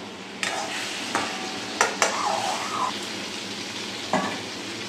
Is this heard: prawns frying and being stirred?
yes